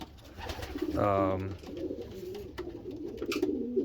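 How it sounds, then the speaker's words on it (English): A house pigeon kept as a pet hen in a breeding loft gives one clear, close coo lasting about half a second, with a person talking around it. "She's actually a house pigeon."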